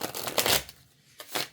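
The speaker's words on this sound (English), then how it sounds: "I have to be careful how I shuffle these." Tarot cards are shuffled by hand in two quick riffling bursts separated by a brief pause. The papery flutter is close and moderately loud, with no talking over it.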